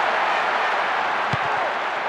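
A large crowd in a vast football stadium during a Liverpool versus Manchester United match in the video game PES 10 makes a steady broad roar, with a brief thump near the end and no talk.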